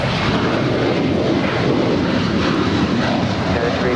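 A United Airlines Boeing 737-900ER departs Los Angeles International for Houston, its jet engines producing a loud, dense, steady roar that fills the air without a break.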